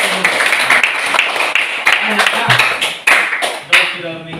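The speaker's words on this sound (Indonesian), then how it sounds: "Tepuk tangan untuk kawan Radesta." Classroom applause for a student, many hands clapping in a loud, continuous patter with a few sharper slaps standing out, alongside children's voices throughout.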